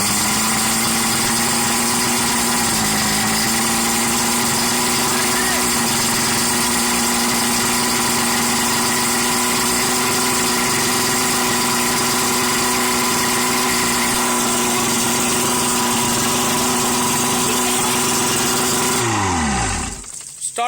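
A boat motor idles with a steady, loud, close hum and droning vibration for most of the stretch, then winds down and cuts off near the end; no talking.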